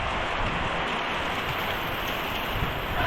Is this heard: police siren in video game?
no